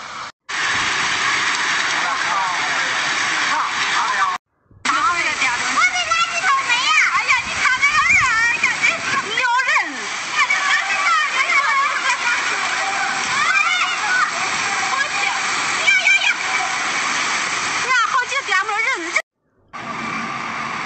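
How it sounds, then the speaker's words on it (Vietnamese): Heavy rain and floodwater rush through streets turned into rivers during severe flooding in Chinese provinces, a loud continuous wash of splashing water under excited voices, broken by two brief silent cuts. "mưa lớn đã đổ xuống, đường phố biến thành sông"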